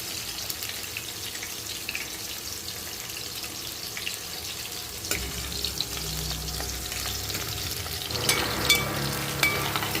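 Moong dal fritters (pesara punukulu) frying in hot oil, a steady broadband sizzle throughout with occasional clinks and stirring knocks, the bubbling growing busier toward the end; no talking.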